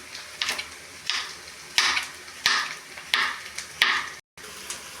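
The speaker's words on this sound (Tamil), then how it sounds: "வெங்காயம் நல்லா வதக்கி எடுத்துக்கலாம்." Onions sautéing in a pan for a chicken curry, a steady background sizzle broken by several rhythmic bursts of stirring or scraping, close and moderately loud, with no talking.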